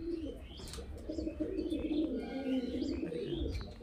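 Madrasi and Kalshira pigeons coo continuously and fairly close, a low rolling warble running throughout with faint chirps above.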